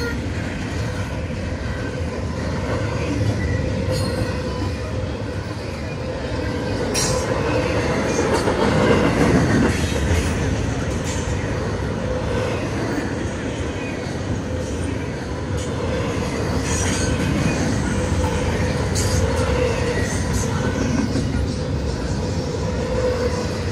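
A long freight train rumbles past nearby, its wheels clicking and clattering over rail joints in a steady, continuous roar with occasional metallic squeals.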